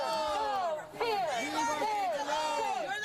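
Crowd in the overflow area of an Orange Unified school board meeting, with opposing sides of a transgender notification policy debate: dense, close babble of many overlapping voices, steady throughout with a brief dip around one second.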